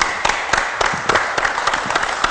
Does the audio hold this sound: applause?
yes